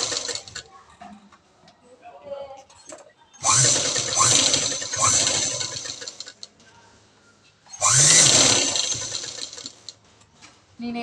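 A sewing machine stitches the lining of a cut-work blouse neck in two loud sustained runs of fast rhythmic whirring, separated by quieter stretches of handling noise and brief speech.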